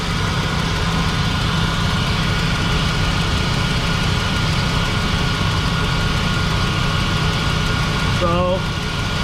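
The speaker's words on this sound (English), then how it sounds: "That's some noise on the idle." Steady low rumble of a GMC Savana / Chevy Express 6.0L engine idling, continuous and close, with a brief higher-pitched whine near the end.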